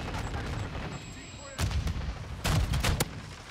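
Gunfire from a shooter video game, with a VTOL aircraft in play: dense bursts of shots and heavy blasts that swell loudest in two clusters near the end, over a constant rumble of game noise.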